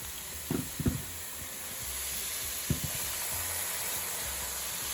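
Paneer masala with tomato puree sizzling in a pan on a medium flame, a steady soft fry hiss with a few brief knocks of a spoon against the pan.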